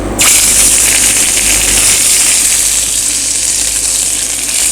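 Scallops searing in hot oil in a pan, a loud steady sizzle that starts abruptly and holds evenly throughout, with no talking.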